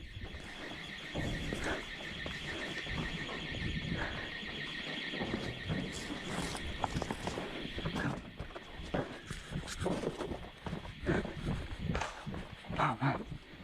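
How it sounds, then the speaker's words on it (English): A loud, piercing alarm blares continuously at a high pitch while hurried footsteps and rustling leaves move beneath it, with brief excited voices mixed in. "That was a loud alarm."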